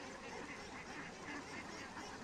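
Ducks in an open field near paddy, quacking and calling in a steady, dense chorus throughout, close and fairly loud with no talk over them.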